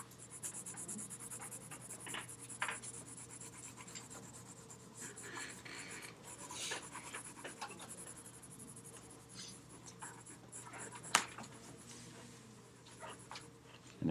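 Graphite pencil scratches and rubs across paper while shading is blended in, soft irregular strokes and swishes, faint and close, with no one speaking.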